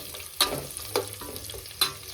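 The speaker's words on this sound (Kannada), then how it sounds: "ಒಗ್ಗರಣೆಗೆ ಈರುಳ್ಳಿ ಹಾಕಿ" Onions sizzle steadily in hot oil, with three distinct scraping stirs of a spoon in the pan, close up and without talking.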